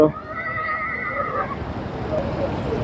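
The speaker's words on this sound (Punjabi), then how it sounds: "ਘੋੜੇ ਤੇ ਘੋੜੀਆਂ" A horse at a stud farm during the Jagraon horse fair in Punjab lets out a loud, close whinny in the first second and a half, followed by steady outdoor crowd noise.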